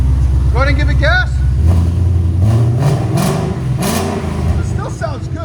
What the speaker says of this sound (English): So this is with valves closed. Valves closed. Right at 81. Go ahead and give it gas.